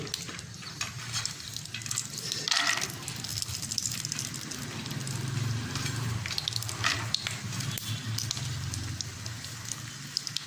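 Cashews and almonds fry in ghee in a pan, giving a steady close sizzle with occasional scraping and stirring clinks throughout, with no talking.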